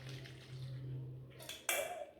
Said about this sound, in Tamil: மிக்ஸி ஜாரை கழுவி வச்சுருக்க தண்ணி